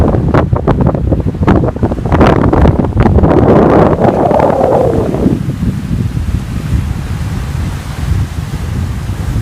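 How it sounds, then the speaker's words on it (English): Heavy wind buffets the microphone with loud roaring gusts, while waves wash and surge in the background, in Penticton, British Columbia, Canada. "It's so windy. See the waves."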